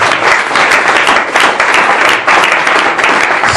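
A church congregation bursts into steady, dense applause that fills the room from start to finish, loud and close, with no talking over it.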